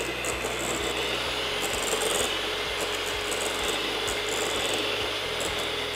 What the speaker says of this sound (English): I like mixing it with the spatula first so that the sugar does not jump all over the surface.